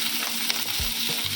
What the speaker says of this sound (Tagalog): Medyo fry natin siya ng kaunti rin.